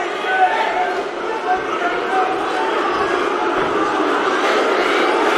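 A packed arena crowd at a Cage Warriors MMA bout in Manchester roars and cheers in a steady, dense wash of voices that holds for several seconds with no pauses.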